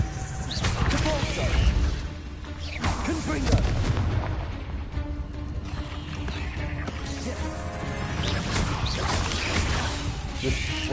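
Confringo fire spell blasts and booming impacts from Hogwarts Legacy combat fill a dense, continuous mix of explosions and game noise, with a player talking over it.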